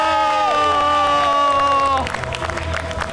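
Tribal villagers and family members at a welcome gathering erupt in applause and cheering, a loud crowd roar with clapping, as a sustained tonal note fades out partway through.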